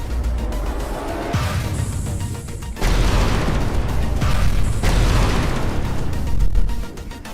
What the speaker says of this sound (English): Gotta be careful when using that gun, because the explosion itself can mess you up.